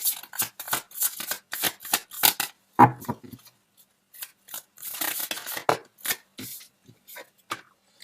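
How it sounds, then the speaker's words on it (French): Tarot cards are shuffled and drawn by hand, with quick, close runs of papery riffling and sliding, a sharper snap of a card near the middle, and short pauses between bursts. "on va sortir une autre carte"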